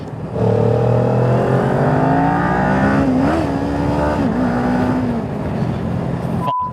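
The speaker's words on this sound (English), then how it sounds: "I wanted to shoot past that four-wheel drive and I ended up missing next gear" Motorcycle engine revving hard as the rider tries to overtake a four-wheel drive and misses a gear: a loud, steady drone climbs in pitch, wavers and drops where the shift fails, then cuts off abruptly.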